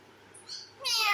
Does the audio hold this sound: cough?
no